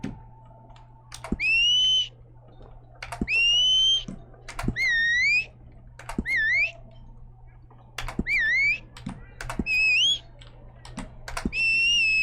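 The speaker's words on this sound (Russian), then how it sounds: "Ну-ка, свисти ты мне." Character whistling in Red Dead Online, a series of short rising whistle phrases repeated about eight times, clear and close, separated by clicks and soft interface thuds over a faint steady hum.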